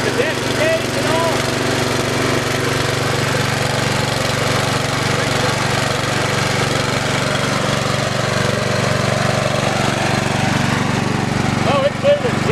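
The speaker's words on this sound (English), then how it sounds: "Let's see if it smooths out here just a second. Yeah, runs good. Got the Briggs and Stratton motor." A Troy-Bilt TBWC33XP walk-behind mower with a Briggs and Stratton engine runs loud and steady at close range. The engine drone is continuous throughout, and someone talks over it.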